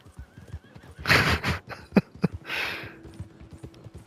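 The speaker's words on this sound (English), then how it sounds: "That's my horse." A horse in the video game Red Dead Online neighs loudly and close by, a long whinny with snorting and a few hoof clops, with no talk over it.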